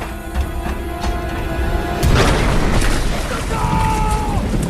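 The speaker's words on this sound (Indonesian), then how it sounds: "Paman Aeroh menyaksikan keponakan tercinta ikut meledak dalam kecelakaan" A sudden loud boom bursts out midway, followed by a rumbling, crackling roar that lingers under a steady background drone.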